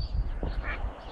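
A mother duck gives a short, close quack or two outdoors near water, loud against a low rumbling background.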